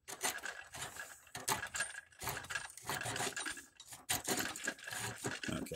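A Vevor router plane cuts deep into wood, giving a continuous, close scraping and rasping with uneven bursts and brief pauses between strokes.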